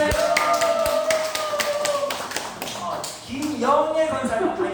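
A church congregation at a nursing home worship service gives a short round of clapping, sharp scattered claps under a voice speaking, tapering off as talk continues.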